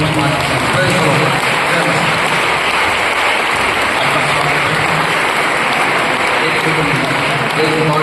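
A congregation at a Christian church gathering applauds a guest, with steady, dense clapping from a large crowd that fills the whole stretch at a fairly loud level, alongside some voices.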